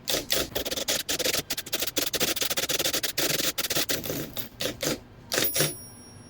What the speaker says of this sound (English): And then we keep typing the next line.